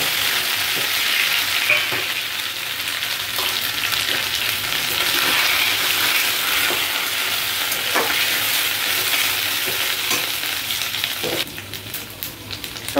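Ground kharkol leaf paste with black cumin stir-fried in oil in a pan, continuous sizzling hiss with faint periodic scrapes of a spatula, easing slightly at the end.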